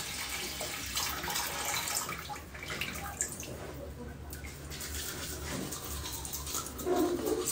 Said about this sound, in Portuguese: Ó, a torneira ligada.